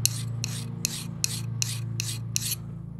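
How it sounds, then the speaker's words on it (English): A file rasps across a hardened steel knife blade in seven even strokes, crisp and close, each pass a short scraping burst over a steady low engine hum in the background. "The file skates across the surface."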